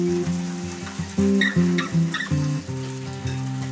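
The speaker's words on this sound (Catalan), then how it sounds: "ara anem al procés de fregir, que l'oli ja està calentat i tot" Fish fritters made from tiny jonquillo fish fry in hot oil, a steady close sizzle with bursts of crackling as pieces go in, under a sustained tonal hum and with no talking.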